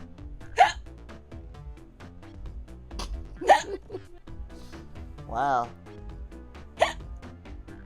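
Several loud hiccups from a video game character, sounding as distinct, evenly spaced squeaky bursts, with game voices and music playing underneath and a single spoken exclamation.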